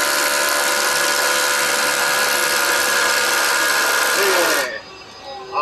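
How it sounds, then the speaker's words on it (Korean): A Milwaukee MX FUEL drill with an 18mm bit bores a hole in one loud, sustained high-pitched whine that cuts off sharply near the end, leaving quieter background noise. A voice speaks briefly at the start. "타공 시작하도록 하겠습니다"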